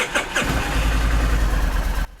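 A motorcycle engine cranks with a couple of quick turnovers, then fires and settles into a loud, steady close-up idle before cutting off.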